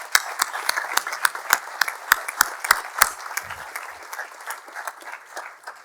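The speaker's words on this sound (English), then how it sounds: "give them a round of applause." Sparse round of applause at a commencement ceremony, with distinct individual claps in an uneven rhythm from a small group, fairly close and tapering off toward the end.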